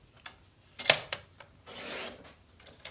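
Scissors cutting strips of paper for a paper mache box, close-up sharp snips and rasping slices separated by brief pauses, with one longer drawn-out cut near the end.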